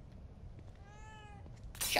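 A single clear meow from a cat in the horror video game The Evil Within 2 rises and falls over quiet ambience before a sudden loud burst of noise.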